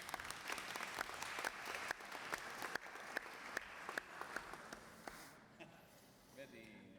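An audience at a round table on information applauds journalists, a dense burst of clapping with sharp individual claps that thins out and fades over the last seconds.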